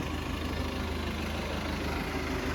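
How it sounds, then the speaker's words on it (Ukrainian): A tractor engine runs at a steady idle, making a close, continuous low rumble with an even mechanical throb and no talk. "Зараз зажену трактор"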